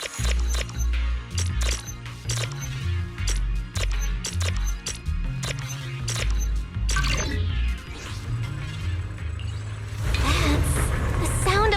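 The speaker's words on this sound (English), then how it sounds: "That's the sound of machinery." Factory machinery runs in the video game Zenless Zone Zero, with a layered, loud mechanical mix of rhythmic clanks and clicks over a low pulsing drone, swelling into a denser whirring rush near the end.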